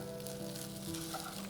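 Vermicelli and rice sizzle in a pan as they are stirred gently for an Omani Ramadan dish, making a close, steady frying hiss with a faint hum beneath and no voices.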